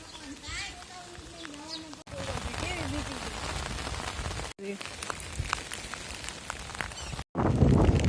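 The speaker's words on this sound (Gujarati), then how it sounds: "વરસાદ ચાલુ છે" Rain patters steadily and densely on surfaces near a swelling river, with voices speaking over it and a few abrupt cuts; a louder burst of rain at the end.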